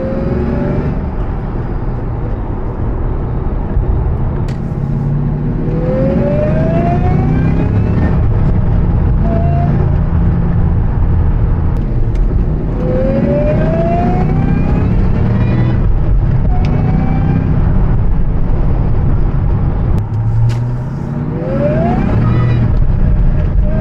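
A supercharged V8 in a 2004 Mystichrome Mustang Cobra SVT, heard from inside while driving: a loud, continuous engine drone with repeated rising surges as it accelerates through the gears.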